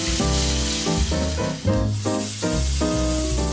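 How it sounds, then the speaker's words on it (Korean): Pork belly slices sizzling on a well-heated grill plate, a loud continuous hiss and crackle of fat with a steady, close sound and no voices. "잘 달궈진 불판에서 지글지글 구워줍니다."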